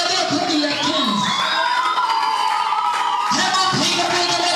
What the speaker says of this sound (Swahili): Hebu piga vigelegele kwa ajili ya kenzi.